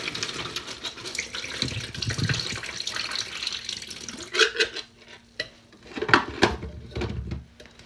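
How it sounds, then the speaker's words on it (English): Water runs from a tap while hands are washed under it, a steady broadband rush in the first half, then broken into splashes and splatters with brief pauses toward the end. "Let's start by washing my hand."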